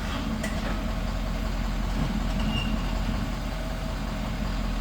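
A truck fitted with a crawler package idles in four-wheel drive, giving off a steady, low engine rumble with no revving, at moderate volume from start to finish.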